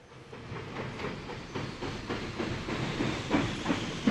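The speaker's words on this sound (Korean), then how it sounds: "기차가 들어오자 맨 끝 칸 맨 끝자리로 미끄러지듯이 슬쩍 들어가" A train pulls into a station, a quiet rumbling hiss with soft rhythmic clatter that builds gradually as it approaches, heard alone as a sound effect in a narrated story.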